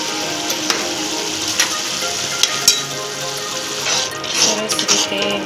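Chilli and turmeric sizzle in hot oil in a pan, a steady crackling fry broken by scraping stirs and small clatters of the spoon, close and fairly quiet with no talking.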